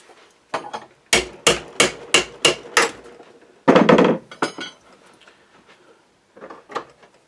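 A series of sharp metallic hammer strikes on a Savage rifle barrel in quick succession, then a heavier clanking blow and a few lighter taps, close and loud.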